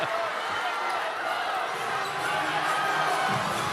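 A crowd of more than 14,000 fills a professional basketball arena with a continuous, dense roar of cheering that swells slightly toward the end, with faint commentary blended underneath.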